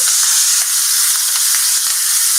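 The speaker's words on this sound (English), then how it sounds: "You can hear it sizzle." Steady, loud sizzling of broccolini and zucchini noodles frying in a hot pan, a continuous crackling hiss with a few faint pops, no voices.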